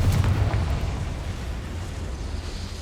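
A Confringo blasting spell explodes in Hogwarts Legacy, a loud rumbling boom at the start that rolls on and slowly fades into a windy roar.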